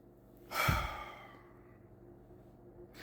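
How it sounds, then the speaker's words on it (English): A single deep inhale and slow exhale, close and breathy, rising sharply then fading gradually into quiet room tone. "You take a deep breath."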